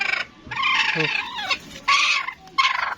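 A mestiza labuyo junglefowl hen, one that has just laid eggs, gives several short bursts of clucking and calling, close by and fairly loud, with quiet pauses between them.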